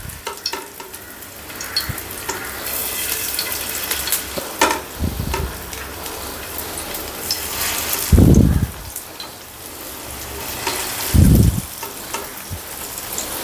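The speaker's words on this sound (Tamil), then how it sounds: "இப்போ வந்து நம்ம மீன் வந்து நல்லா எண்ணெய் சூடாயிடுச்சு" Fish frying in hot oil in a home kitchen gives a loud, steady crackling sizzle throughout, with a couple of heavier bursts of spattering near the end.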